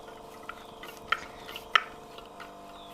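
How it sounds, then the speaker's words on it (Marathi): Curd is churned into buttermilk with a wooden hand churner in a glass: faint soft swishing with a few sharp clinks of the churner against the glass, quiet and close, no talking. "आणि ज्या टाइमला आपण रवीने असं फेटतोय ना त्या टाइमला सांडणार पण नाही"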